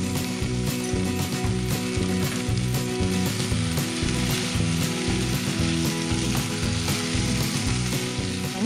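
Potatoes and cauliflower florets stir-frying in a pan over a medium flame, giving a steady, loud sizzle with continuous scraping and clattering from stirring throughout.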